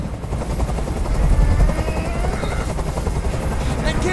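A hovering helicopter in the Detroit: Become Human video game, its rotor chop throbbing steadily and loudly throughout, with a tense scene playing out around it.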